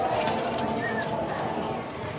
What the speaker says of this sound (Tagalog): iloload na natin yung ibon sa training